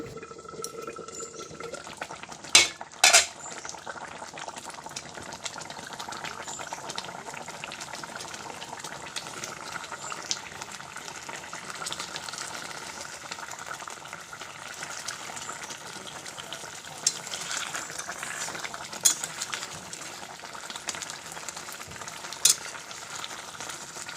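Fish simmers in a pan with ground mustard and coconut paste, giving a continuous sizzling, bubbling hiss, with a few sharp clinks of a utensil against the pan.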